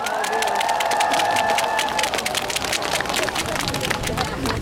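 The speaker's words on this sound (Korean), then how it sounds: "여러분들 다시 한번 뜨거운 박수를 부탁드리겠습니다." A large crowd at a Korean persimmon festival concert applauds and cheers loudly and continuously, with shouts and bright clapping filling the space while a sustained tone fades out early.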